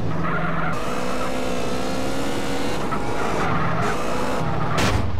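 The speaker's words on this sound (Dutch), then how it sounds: "Achtervolging op de scooter." Game-engine scooter chase with tires skidding and squealing over a steady, loud engine drone, the motor pitch rising and shifting throughout, with a sharper screech near the end and no talking.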